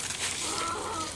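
A hen clucks softly and repeatedly against steady background noise, close by, with no talking.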